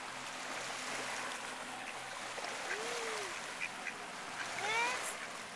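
Ducks quack at a pond while bread is being thrown to them, a few short calls rising over a steady background of flowing water and faint voices nearby.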